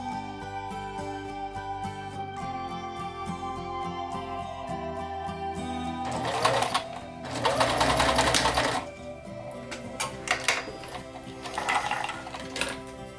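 Sewing machine stitching a T-shirt into a sweater, a steady close mechanical whir that shifts partway through to a rougher, busier stitching burst with short pauses.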